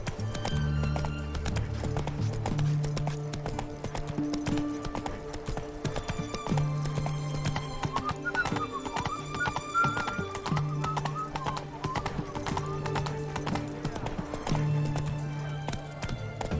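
A horse gallops with steady rhythmic hoofbeats in The Witcher 3 game world, loud and continuous over a layered orchestral music score, with an occasional whinny.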